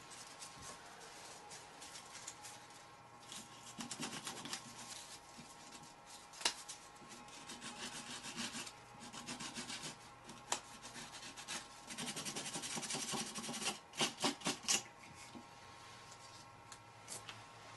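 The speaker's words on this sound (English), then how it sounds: "I'm going to clean off the carbon from the burned area with some sandpaper." Sandpaper scrubs carbon off a burned spot near a relay on a circuit board, a close, steady rasping rub in uneven strokes, with sharper scratchy bursts toward the end and no talking.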